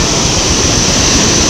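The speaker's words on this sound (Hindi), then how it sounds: "ये देखो पहाड़ों के अंदर से पानी कितना तेज़ आ रहा है" Fast, heavy water rushes down from the mountains after heavy rain near Muzaffarabad, a loud, close, unbroken roar of churning flow with some wind buffeting.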